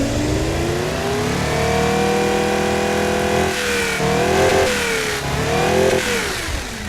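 Toyota 1GZ-FE V12 engine revving, a smooth multi-toned drone that holds steady, then swells and drops in several quick blips toward the end, loud and close.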